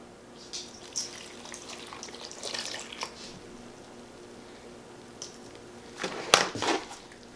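Whole milk being poured into a meatloaf mixture, a soft liquid trickle and splash that swells near the end, close and fairly quiet with a few faint clinks before it.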